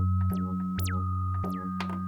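Sustained high-pitched whistling tone from a Waldorf 3rd Wave synthesizer, a steady piercing pitch held throughout above a low bass drone, with short squelchy filter sweeps and chirps rising and falling over it.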